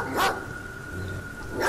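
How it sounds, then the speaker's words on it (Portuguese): Dogs barking furiously at a beast in a farmyard fight, heard as two loud, close barks separated by a short pause. "Os cachorros, com uma fúria que jamais tinha visto, partiram para cima da besta"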